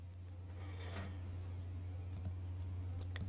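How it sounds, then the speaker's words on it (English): A computer mouse clicks to open a downloaded installer file, a few faint, sharp clicks over a steady low hum of room or computer noise. "then I'm going to click open"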